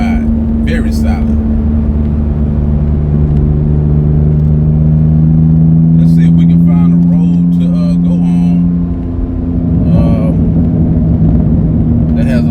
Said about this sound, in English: So let's take the car for a spin, see how it does.